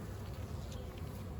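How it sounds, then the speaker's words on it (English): A calm swarm of honeybees in a hive hums steadily and close, a dense continuous buzz with no breaks, while a frame heavy with nectar and larvae is lifted. "The bees are a lot calmer, if you'll notice on these."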